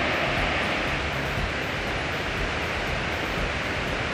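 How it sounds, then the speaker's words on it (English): A 54-metre-high waterfall roars steadily at a distance behind trees, a constant broadband rushing hiss without breaks or voices. "The noise you hear in the back is a waterfall."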